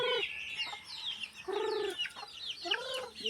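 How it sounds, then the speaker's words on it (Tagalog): Small chicks in a coop cheeping in short, high, bright calls, several overlapping close by in quick bursts with brief gaps between them. "Naisisiw dito, oh. Yung mga sisiwan."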